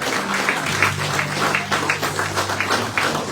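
A church congregation applauds in a steady wash of clapping from many hands, fairly close and continuous, with a faint low tone underneath.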